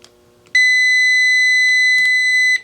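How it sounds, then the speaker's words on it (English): A loud, steady electronic beep from a Hemingson HVJ02 portable jump starter's short circuit protection sounds continuously for about two seconds after a brief quiet moment, then cuts off. "if you have a solid red with continuous beeping, that means short circuit protection"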